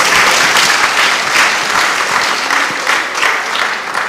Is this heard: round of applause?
yes